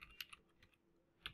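A few quiet keystrokes on a computer keyboard while code is typed, short clicks at the start and end with a near-silent pause between them.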